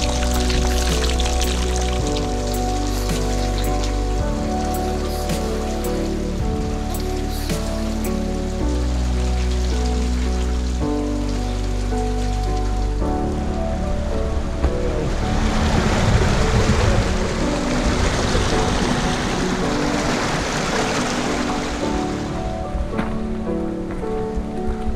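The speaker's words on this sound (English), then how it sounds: "Got spring water flowing through." Spring water rushes and splashes steadily along a backpacking trail in the Ouachita National Forest, Arkansas, a continuous broad hiss that swells midway, with a low tonal drone running underneath throughout.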